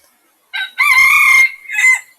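A rooster crows at dawn in cold weather. A short opening call leads into one loud, long, harmonic cock-a-doodle-doo, and a brief trailing call follows close by.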